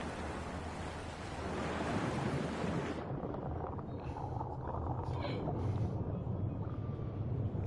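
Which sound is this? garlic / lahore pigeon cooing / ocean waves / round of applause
ocean waves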